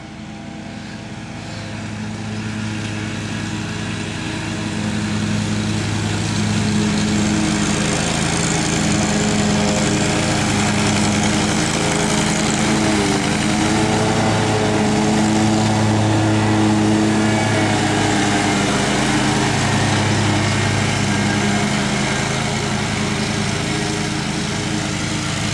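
A lawn mower engine drones steadily while cutting grass, a loud continuous buzzing hum that swells slightly after the first few seconds and holds with small variations in pitch, heard alone without talk.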